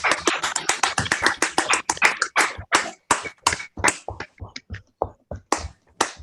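An online audience applauds at a poetry pamphlet launch with a scattered round of claps, dense and fast at first, then thinning to sparse, uneven individual claps close to the microphone.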